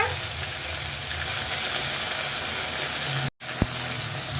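Onion-garlic paste hits hot oil while a young jackfruit curry is cooked, giving a loud, steady, close sizzle that runs unbroken, then briefly cuts out before resuming.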